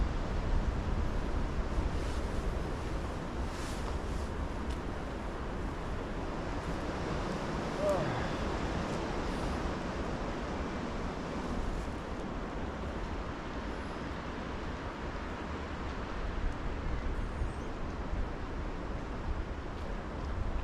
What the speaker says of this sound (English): you're just lying here listening to the wind